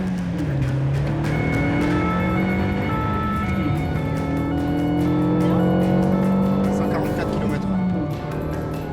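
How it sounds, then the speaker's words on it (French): Red car speeding past during a police chase, its engine revving loudly and changing pitch as it races by, with tires squealing and a steady roar lasting the whole stretch. "Cette voiture rouge dépasse largement la vitesse autorisée."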